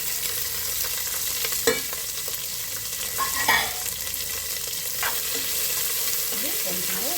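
Onions and capsicum frying in oil with mustard seeds, a loud, continuous close-up sizzle broken by occasional stirring scrapes.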